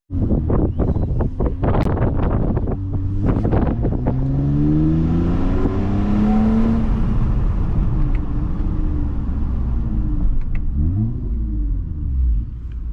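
Toyota TRD Camry V6 with resonator-deleted exhaust, heard from inside: a few sharp blips, then a loud rising acceleration sweep and gear change, under wind rumble and buffeting, with no speech.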